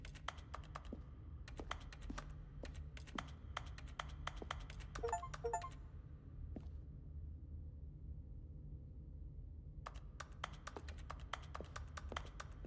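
Clicking in The Stanley Parable: sharp, rapid mouse or key clicks in irregular bursts, close and dry, with a quieter pause in the middle and clicking resuming near the end, no voices.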